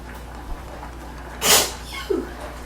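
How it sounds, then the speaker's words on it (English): A single sharp sneeze bursts out mid-clip during seasoning food at the stove, followed by a short breathy sound, with faint kitchen background. "Every time I season something, I'm like always sneezing."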